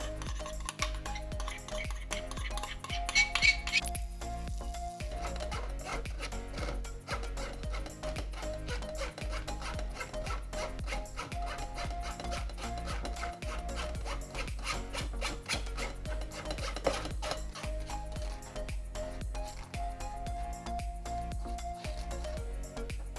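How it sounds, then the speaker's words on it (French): Warmed raspberry jam pressed through a strainer to remove the seeds, a steady soft rubbing and rasping scrape with light metallic clinks from utensil and bowl, continuous and close throughout. "On va maintenant filtrer les pépins."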